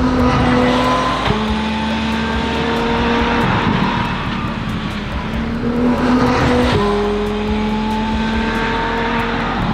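Gordon Murray T.50s race car running on a test track, its high-revving engine wailing through repeated upshifts and downshifts, loud and sustained as it passes by, with no talk.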